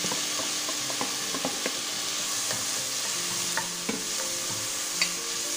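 Garlic and tomato fry in a pan with a steady sizzle, while a utensil gives occasional soft stirring scrapes and taps at close range.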